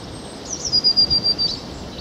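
Birds sing from scrub, hedges and field edges in open countryside near Old Hunstanton, with a thin, high warbling phrase and a few quick chirps over soft outdoor ambience.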